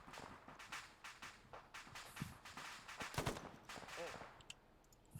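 Bursts of machine gun fire in a military simulation game, rapid sharp cracks in uneven clusters with a few heavier shots, some near and some distant, with faint radio chatter underneath.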